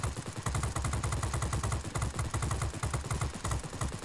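A Ki-27 fighter's machine guns in World of Warplanes fire in a steady rapid rattle, loud and continuous, with a rhythmic pulsing of shots running throughout.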